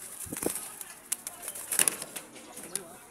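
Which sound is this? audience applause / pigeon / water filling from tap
pigeon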